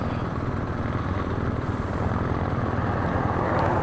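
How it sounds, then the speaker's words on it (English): A small crop-duster-type aircraft comes in to land, a steady loud droning propeller engine hum with rough, broadband rumble throughout and no voices. "It's like a little crop duster, that one."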